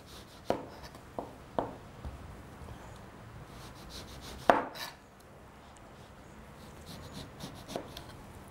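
A sharp knife peeling an orange down to the flesh, faint close scraping and cutting with a few distinct crisp slicing strokes spaced out over a quiet background.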